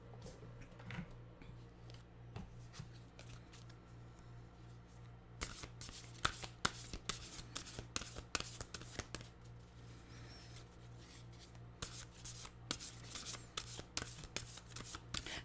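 Nature's Whispers oracle cards are shuffled by hand, a soft riffling and flicking that turns into rapid, busy close-up card snaps over a low steady hum, with no talk.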